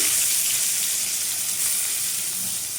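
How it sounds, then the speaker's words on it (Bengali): Onions sliding into hot oil left after frying rupchanda fish, giving a loud, continuous close-up sizzle with a bright hissing wash that holds steady throughout. "আস্তে আস্তে পেঁয়াজগুলো ছেড়ে দিচ্ছি"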